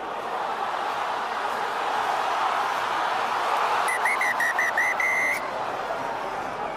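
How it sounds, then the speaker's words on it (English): A referee's whistle at a rugby union match, Gallagher Premiership against Harlequins, shrills in a quick run of several short blasts over a steady roar of the stadium crowd. "Issued the instruction for the whistle to be blown."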